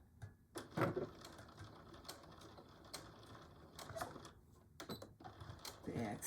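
A sewing machine back stitching a Betty Boop pillow cover, with irregular short bursts of rapid mechanical clatter and pauses between them, close and moderately loud, while a person talks quietly at times.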